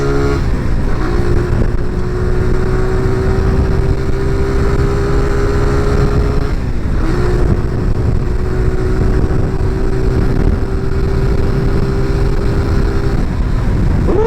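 A SKYGO Magnus 200 scooter with a 200cc engine accelerates hard in a long, loud, steady run. Its engine tone climbs gradually, dips briefly partway through and then climbs again, with wind rushing constantly underneath.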